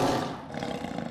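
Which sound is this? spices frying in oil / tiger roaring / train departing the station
tiger roaring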